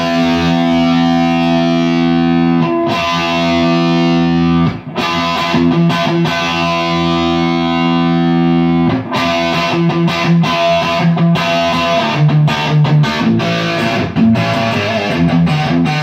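A heavily distorted electric guitar plays through a Mesa Dual Rectifier amp set to 100 watts, giving loud, thick, sustained chords with a few brief stops and choppier riffing toward the end, and no talking.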